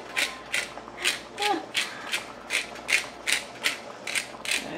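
A pepper mill grinds black pepper in a kitchen while a chicken linguine dish is being cooked, ten quick, evenly spaced ratcheting crunches close by, with no one talking.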